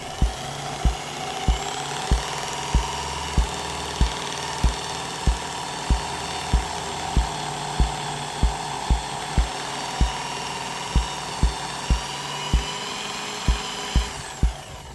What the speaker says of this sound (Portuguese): Vou pegar a esmerilhadeira ali e ir girando tanto a furadeira quanto a lixa da esmerilhadeira.